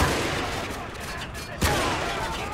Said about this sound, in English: They're shooting Adams